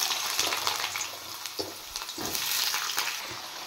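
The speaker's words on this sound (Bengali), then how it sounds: "কেটে রাখা আলু ফ্রাই করে নেব।" Cut potatoes fry in hot oil in a wok with a continuous crackling sizzle, punctuated by occasional scraping stirs, close and moderately loud, with no talk.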